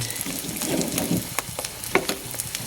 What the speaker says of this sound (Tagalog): yan po yung ating tuyo yan prito lang siya